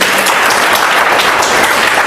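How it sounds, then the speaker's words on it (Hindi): Seminar audience at a business training session claps for themselves, a dense, steady burst of many hands filling the room with no talk over it. "अपने लिए ताली बजा लो, आप सब लोग स्टूडेंट हो।"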